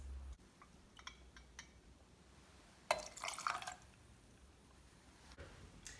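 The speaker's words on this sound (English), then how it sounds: "You need 2 ounces of whiskey and pour that over the ice." Bourbon whiskey is poured over ice in a glass, a short, close liquid splash and trickle midway, framed by faint drips and light clinks in a quiet room.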